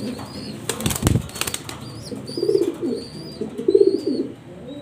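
Pigeons in a loft, rare master-pair birds on sale, with loud bursts of flapping wings near the start and low cooing rising twice in the middle and later, alongside faint bird calls.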